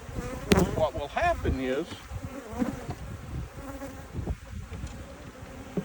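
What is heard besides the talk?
bees buzzing around an open hive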